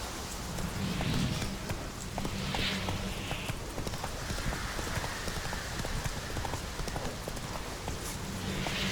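Hooves of a horse galloping in The Witcher 3 over a steady wash of rain, a continuous fast clip-clop rhythm close by with no talking.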